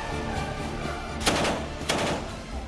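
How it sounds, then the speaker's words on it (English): Gunfire rings out in a city during the battle of Al-Qusayr in Syria, two sharp cracking shots standing out amid a dense, rumbling backdrop of distant firing. "shelling and sniper and artillery attacks are still dominating the atmosphere in the city"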